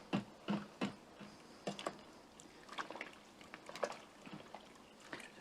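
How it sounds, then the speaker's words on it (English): Beans get stirred in an Instant Pot with smoked pork jowl, soft irregular scraping and wet clicking strokes against the pot, faint and close with no talk. "Give it a nice stir here."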